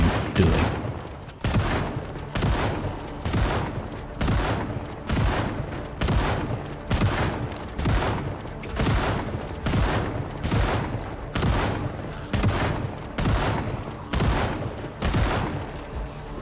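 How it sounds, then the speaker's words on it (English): Shotgun blasts ring out against zombies in the video game Bus Nomad, a steady series of loud, sharp booms roughly one per second, each decaying briefly before the next, with no talking. "In another moment of madness, she decides to use the shotgun."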